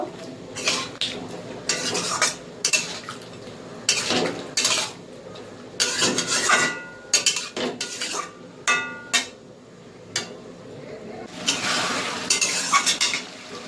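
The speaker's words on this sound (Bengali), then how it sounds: "ভালো করে মশলাটা কষিয়ে নেব।" Spice masala being stir-fried for katla fish curry, a metal spatula scraping and clinking repeatedly against the pan in irregular bursts over a faint sizzle, close and with no talk.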